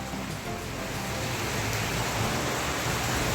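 Heavy rain pours down in Jammu, a dense, loud, steady hiss of downpour filling the scene without any break or voices.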